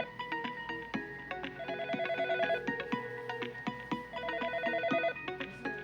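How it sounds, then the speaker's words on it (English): Desk phones in a Yeastar PBX ring group ring together, overlapping electronic ringtone melodies repeating in steady patterns at moderate volume, with no voices. "Wait for the phones to ring."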